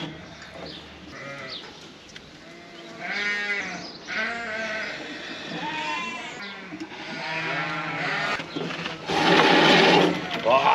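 Lambs bleating in a drenching race, several overlapping calls rising and falling close by, louder toward the end, with a steady mechanical hum underneath.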